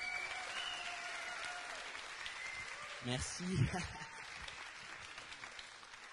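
Applause from an audience at a live statue unveiling event for Ladybug and Chat Noir, moderate and steady throughout, swelling briefly in the middle, with a voice speaking over it.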